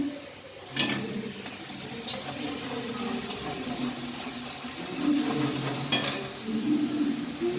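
Chicken frying in a pan until browned, a steady sizzle with scraping stir strokes and a few sharp clinks of a utensil on the pan.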